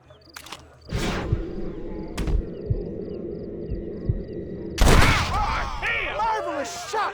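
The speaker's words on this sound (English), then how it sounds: "Marvelous shot, dear boy." Gunfire in the Western video game Red Dead Redemption, with several sharp shots cracking over a busy game soundscape, followed by a burst of shouting voices near the end.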